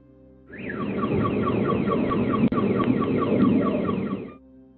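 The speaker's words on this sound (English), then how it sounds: "sending out shockwaves that set off car alarms" A car alarm blares after a chemical plant explosion in a Texas town, cycling through a loud, repeating warbling siren pattern for several seconds before cutting off, with no voices.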